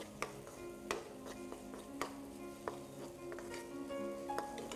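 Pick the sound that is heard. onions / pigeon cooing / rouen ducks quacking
onions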